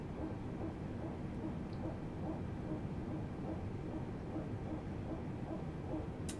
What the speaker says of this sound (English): That's the engine just starting up.